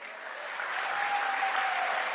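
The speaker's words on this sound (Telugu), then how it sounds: "ఒక్కసారి మీకు మీరు గట్టిగా క్లాప్ చేయండి." A hall audience claps loudly on request, a dense, steady wash of applause that builds in the first moments and then holds evenly throughout, with no voices over it.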